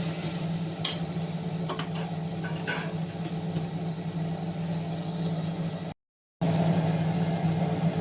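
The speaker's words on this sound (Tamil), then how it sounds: "உப்பு போட்டோம்னா தக்காளி நல்லா வதங்கிடும்." Chopped tomatoes sautéing with salt in a pan for a Tamil mochai kuzhambu, a steady soft sizzle with faint stirring scrapes, brief dropout near the end.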